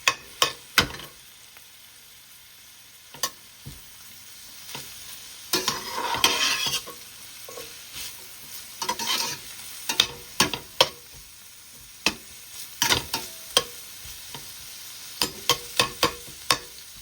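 Beef or chicken chow mein ingredients cooking in a pan, a low sizzle broken by frequent sharp scraping and clacking strokes of a utensil against metal, irregular and close, with a burst of louder frying midway.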